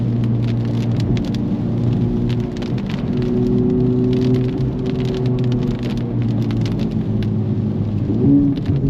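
Rain drumming on a Honda Civic FL5 during a drive, a constant patter over the low engine drone and road rumble inside the cabin, with a brief rise in engine pitch near the end.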